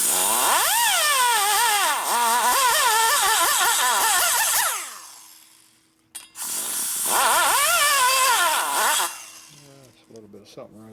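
A power grinder fitted with a dull bit smooths the port of a 1974 74ci Harley shovelhead cylinder head, giving two long, loud whining bursts with wavering pitch. It spins down between them, and clicks and light handling follow.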